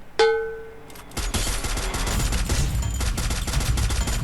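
Rapid gunfire in the battle royale game Free Fire, a burst of shots opening into sustained loud automatic fire with crackling reports, no talk over it.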